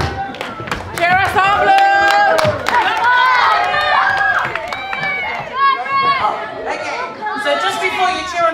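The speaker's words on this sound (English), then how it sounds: "Lisa, can we get the cheers?" A family reunion crowd cheers for their team, a loud, sustained mix of shouting, whooping and chatter with scattered claps, children's voices among it, holding steady for several seconds.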